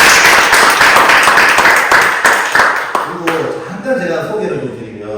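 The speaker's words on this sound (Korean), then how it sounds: "박수 한번 주세요" Audience clapping at a Korean business presentation on HACCP facility construction, a burst of many hands filling the room with dense broadband claps that thin and fade over the last couple of seconds, with voices and laughter mixed in.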